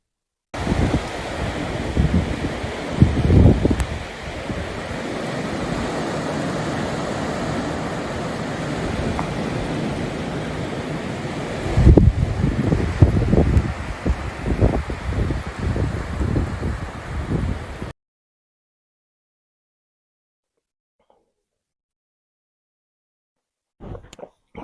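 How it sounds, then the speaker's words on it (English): Blustery storm wind buffets a cottage in a steady, roaring rush with louder gusts, heavy rumbling microphone buffeting, then cuts abruptly to near silence for the last several seconds. "Maybe I'll put a little clip of the storm at the cottage I was at."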